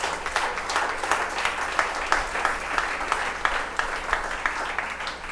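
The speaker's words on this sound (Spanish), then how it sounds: "Fuerte el aplauso al Señor." Steady, full applause from a church congregation, dense continuous clapping close and loud throughout, no talking over it.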